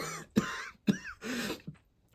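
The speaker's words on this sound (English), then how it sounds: "Your cough..." Several harsh, throaty coughs from a man in a dark, damp catacomb, close and fairly loud, coming in uneven bursts with short pauses between them.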